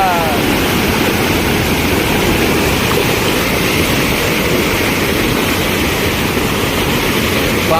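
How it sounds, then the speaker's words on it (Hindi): A fast-flowing stream of water rushes past at a Chhattisgarh–Jharkhand border market, a dense, loud, continuous roar that fills the whole stretch without break. "पानी का जो धार है बहुत तेज है।"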